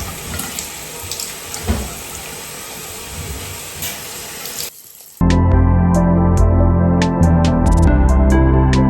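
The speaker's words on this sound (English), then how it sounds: "So I rinse this with water first" A faucet runs loudly while hair is rinsed under lukewarm to cold water: a steady hissing rush that briefly dips and breaks off, then returns as a fuller, splashing flow with sharp water-on-sink splatters.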